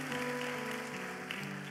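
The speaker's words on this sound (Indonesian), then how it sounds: "Kasih tepukan yang paling dahsyat bagi Tuhan." A church congregation applauds during a sermon, a broad, sustained wash of clapping heard at a distance and fairly faint, blended with a lingering musical tone underneath.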